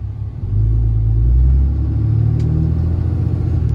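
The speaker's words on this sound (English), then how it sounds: "I'm in park, but I'm gonna put it back in drive. I'm gonna give it about half throttle." A 2016 Ram 2500 Cummins diesel pickup takes about half throttle. A deep, close engine rumble swells into a steady, heavy drone and holds there with no speech over it.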